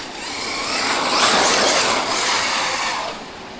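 A Traxxas Slash 4x4 VXL RC car spins its tyres on a slippery autumn surface, giving a loud, steady broadband roar and hiss that swells and holds for a few seconds before easing off, with no talking.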